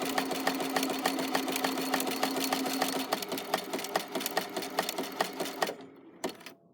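A sewing machine back stitches a rope basket with a continuous close whir and rapid regular ticking that slows into separate clicks before cutting off near the end.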